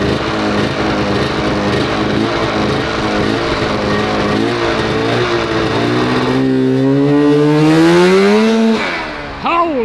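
A 125HP go kart engine screams close by on a race track, holding a loud rasping drone and then climbing sharply in pitch as it accelerates hard before cutting off.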